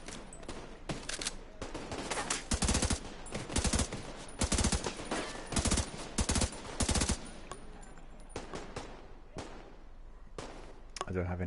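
Suppressing gunfire in The Division 2, loud bursts of rapid automatic shots in several clusters, fading to a quieter stretch before another short burst.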